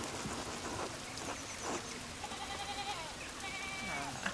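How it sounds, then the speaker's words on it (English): Steady rain pours in the video game Pentiment, a dense continuous patter with other faint animal-like calls and noises mixed in throughout. "This rain is awful."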